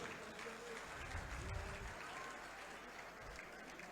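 An audience at a political party workers' convention gives loud, sustained applause to welcome guests, a continuous dense clapping that carries on evenly throughout.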